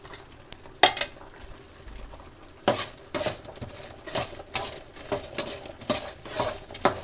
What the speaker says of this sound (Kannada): ಇಷ್ಟು ಸ್ವಲ್ಪ ಆಯಿಲನ್ನು ಸೇರಿಸಿ ನಾವು ಫ್ರೈ ಮಾಡೋಣ.